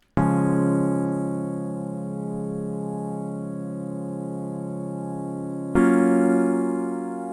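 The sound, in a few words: intro chords on Flex DX9 synth bass preset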